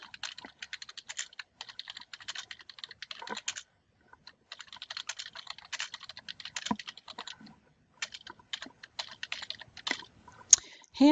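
Steady typing on a computer keyboard while entering a product listing, with long runs of quick, close keystrokes broken by brief pauses and a few louder taps near the end.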